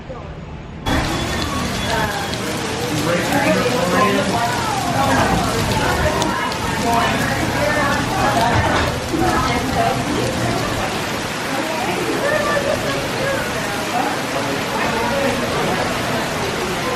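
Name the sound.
rain falling in an EPCOT garden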